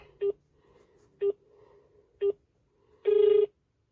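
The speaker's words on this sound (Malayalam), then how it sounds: "റിങ് പോകുന്നുണ്ട്" A telephone ringback tone plays over a speakerphone late at night: three short tonal beeps about a second apart, then a longer, louder tone, in a quiet room.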